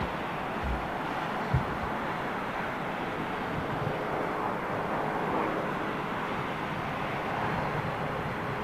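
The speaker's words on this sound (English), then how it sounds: "Jumbo jet, ladies and gentlemen. Jumbo jet." A Boeing 747 freighter jumbo jet at an airport gives a steady, broad engine roar that holds at a constant loudness, with wind noise and one brief thump early on.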